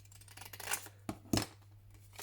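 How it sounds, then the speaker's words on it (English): Scissors cut a paper craft kit sheet in half, a few quiet snips and paper rustles close by over a couple of seconds. "But I'm actually going to cut it in half"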